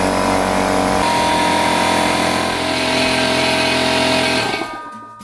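A Craftsman 6-gallon air compressor pumps air into its tank with a loud, steady, close motor-and-pump drone that holds steady and then winds down sharply right at the end.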